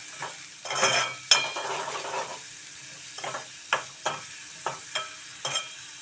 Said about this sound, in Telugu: ఉల్లిపాయ ముక్కలు మెత్తగా అయ్యే వరకు మనం వేయించుకుందాం